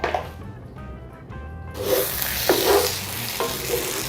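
Honduran beans cook in a pan, a close sizzle that swells after a quieter start, with a few scraping stir strokes against the pan.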